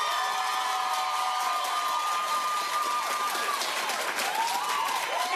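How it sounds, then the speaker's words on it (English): A studio audience at a daytime talk show claps steadily throughout, a dense, even wash of applause with a few cheers and whoops mixed in. "Clap if you want Beyonce to win."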